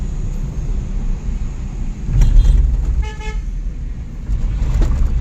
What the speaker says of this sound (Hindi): और मेरे हस्बैंड गाड़ी चला रहे हैं